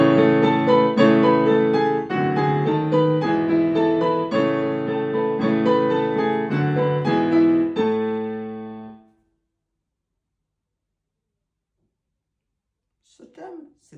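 A Mozart rallying-call theme, a military-style call, played as a bright, clear melodic phrase of repeated notes for about nine seconds, then silence with a faint brief sound near the end.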